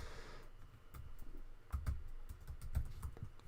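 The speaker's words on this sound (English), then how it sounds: "I'm just typing it in the chat." Someone types on a computer keyboard close to the mic, with a quick run of clicky keystrokes in a quiet room and no talking.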